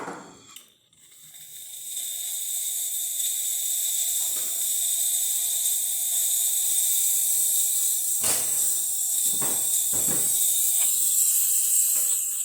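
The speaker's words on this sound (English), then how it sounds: "start warming up the thermal block to start making steam" Steam wand on a DeLonghi Magnifica XS espresso machine, tested after a full tune-up, hisses in a loud, steady rush for over ten seconds, with a few brief pops and sputters toward the end.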